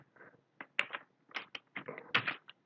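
Someone types C code on a computer keyboard, entering a printf statement. Irregular bursts of close, crisp keystroke clicks come in quick clusters with short pauses between them, and no one speaks.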